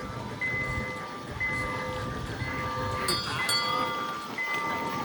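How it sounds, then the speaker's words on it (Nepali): A passing train rumbles steadily at a middle distance, with faint whistling tones and some scattered clatter over the low drone. "आयो है ट्रेन, आयो ट्रेन फेरि पनि"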